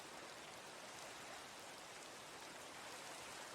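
Steady rain falling at night in Minecraft, a constant soft hiss of drops holding even and unbroken throughout, with no voices over it.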